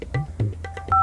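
A rapid series of telephone keypad dialing tones, several short beeps in quick succession, ending on a sustained dual tone, heard clearly and alone.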